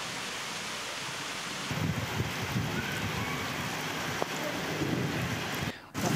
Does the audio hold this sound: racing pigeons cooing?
no